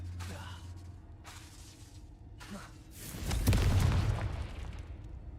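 A Confringo spell blast in Hogwarts Legacy: a rumbling explosion swells up and fades over a couple of seconds, following quieter game sounds and low background ambience.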